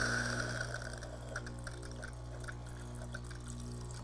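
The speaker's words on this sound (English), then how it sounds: "we'll press the hot water button" Hot water streams steadily from the wand of a Gaggia Velasca espresso machine, a continuous close hiss and trickle with a low machine hum underneath and a few faint drips.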